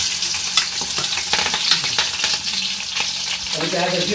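Green chillies sizzle and fry in hot oil with cumin in a home kitchen, a steady crackling hiss throughout with a faint stirring clatter near the end.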